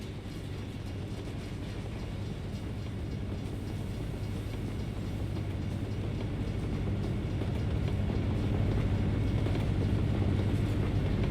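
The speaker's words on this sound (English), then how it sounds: "Sounds like we got a train." A train rolls past in American Truck Simulator, a steady rumbling rail noise with low clatter that holds constant and swells slightly louder toward the end, with no talk over it.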